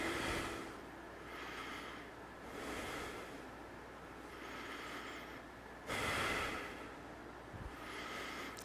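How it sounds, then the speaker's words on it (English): Slow, deep breaths during a Hung Gar kung fu exercise, several long inhales and exhales in a steady cycle, close and breathy with no talking. "And deep breathing."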